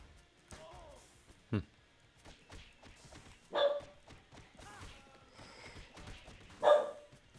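A dog barking off in the distance, a few scattered sharp barks spread across the stretch, faint beneath a person talking close to the microphone.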